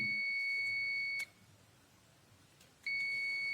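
A multimeter in continuity mode beeps on a connected wire while checking motorcycle wiring: a steady high-pitched tone sounds, stops for over a second while the probes come apart, then sounds again. Close and clear, with no talking.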